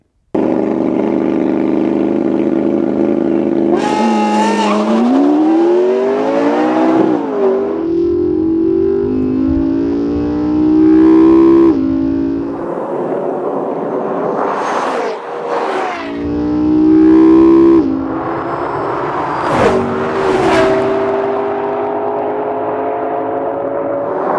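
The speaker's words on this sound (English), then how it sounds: "Off the line, you'll see both cars get moving with just the tiniest bit of wheel spin" McLaren MP4 supercar launching side by side with another car in a quarter-mile drag race, engines roaring loudly and climbing sharply in pitch through repeated gear shifts, with no talk.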